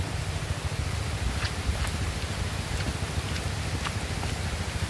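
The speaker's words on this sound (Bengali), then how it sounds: "কি পরিমাণ বৃষ্টি হইতেছে" Steady dense hiss of rain pouring down, constant and enveloping, with a low rumble underneath and no voices.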